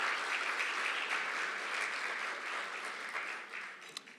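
An audience at a Gold Star family evening gives warm, steady applause, fairly soft and distant, tapering slightly at the end.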